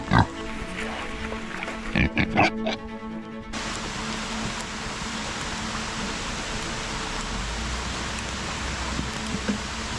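Pigs on a farm grunt and oink a few times near the start, then steady rain patters on a surface, with a person's voice faint in the background.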